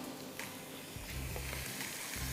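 Prawns and curry leaves sizzle in a pan with a steady, close hiss, with a few soft stirring knocks and a low hum underneath, no voices.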